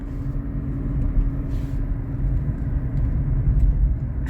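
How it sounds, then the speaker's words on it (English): A Kia car engine hums low and steady under light throttle, a muffled rumble from inside the cabin that holds an even level with only slight swells. No one talks. "I want to give it a little bit of throttle."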